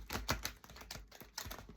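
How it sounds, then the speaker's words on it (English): A deck of cards being shuffled at close range, with a quick run of soft crisp riffling flicks, fairly quiet and with no talking. "I've given them a nice shuffle"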